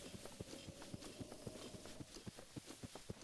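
Horse hooves clip-clop in a steady walking rhythm in Zelda: Breath of the Wild, quiet and evenly paced over a soft ambient game backdrop.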